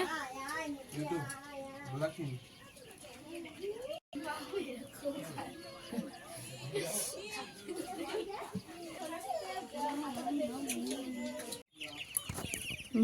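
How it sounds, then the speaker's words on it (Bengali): Hens and about two dozen chicks cluck and peep close by, overlapping with children's voices chattering and playing. "বড় বৌদি এখানে মুরগি বাচ্চা পুষেছে অনেকগুলো"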